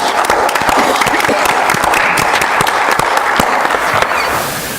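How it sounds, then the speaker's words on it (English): Welcoming applause for Corey at a board of education meeting, a room of people clapping briskly and steadily, with sharp individual claps standing out before it tapers off at the end. "let's give Corey a welcoming applause"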